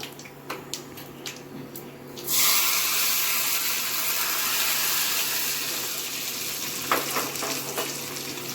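Mustard seeds hit hot oil for a coconut chutney tempering: after two quiet seconds a loud, steady crackling sizzle bursts in close by and keeps spitting, with a few sharp pops near the end.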